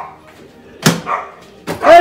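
Dogs at a house bark in short bursts, two or three sharp yelps and barks spread over a couple of seconds, fairly close and loud with a brief faint stretch between them.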